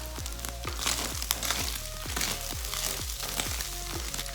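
Vegetables frying with beef in a pan for cottage pie, a soft sizzle with repeated thuds and scrapes of stirring at a regular pace, under a low steady hum, with no talk.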